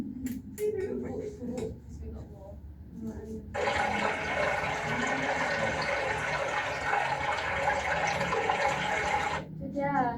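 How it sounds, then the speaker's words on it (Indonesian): A recording of flowing river water played back in a classroom lesson, a steady rushing stream that starts abruptly after quiet talk and runs for about six seconds before cutting off. "Sungai. Suara sungai, suara air."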